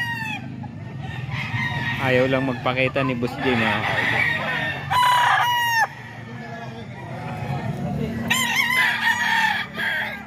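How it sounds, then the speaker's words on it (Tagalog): Many banded roosters at a gamefowl farm crow repeatedly in overlapping calls, some near and some farther off, amid clucking, while someone talks throughout. "Ang daming manok ni Boss J."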